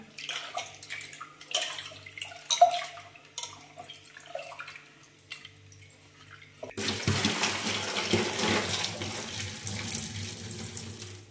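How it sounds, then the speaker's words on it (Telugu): Lentils (dal) are rinsed under a running kitchen tap: a few soft clatters and splashes come first, then a loud, steady gush of water pours continuously, close by, with no talking. "పప్పు కడుగుతున్నాను"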